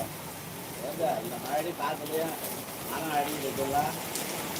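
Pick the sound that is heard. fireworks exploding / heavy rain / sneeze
heavy rain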